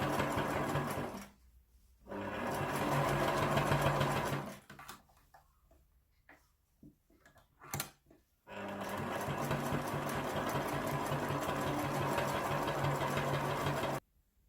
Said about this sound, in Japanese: 中表に2枚を合わせて、周りを一周ぐるっと縫います。